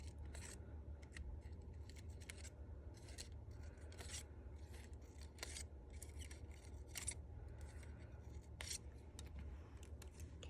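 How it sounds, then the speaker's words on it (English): Small precision scissors snip shimmer paper for a mini flower, giving a steady run of quick, crisp, close cuts with a faint rasping edge and no talking. "Just a small sliver with your precision scissors"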